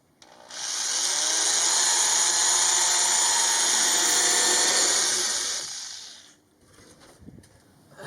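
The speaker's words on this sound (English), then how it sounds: "drill a hole." Power drill boring a hole into a ceiling, one loud, steady, high whine close by that holds for about six seconds before cutting off, followed by faint handling noise.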